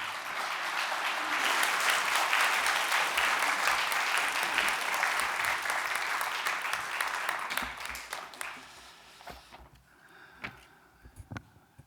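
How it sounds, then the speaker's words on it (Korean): A church congregation at a Sunday worship service applauds to welcome a pastor, a full, steady wash of clapping that holds for several seconds and then thins out to a few scattered claps near the end. "우리 박은조 목사님 모실 때 한번 박수로 한번 맞아주시면 좋겠습니다"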